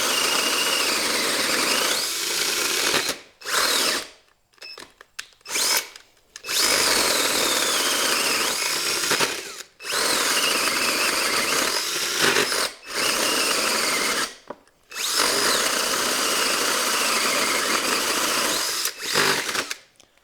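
A Harbor Freight Hercules cordless drill drilling, loud high-pitched whining bursts that start and stop repeatedly, separated by brief silent pauses, close up with no talking.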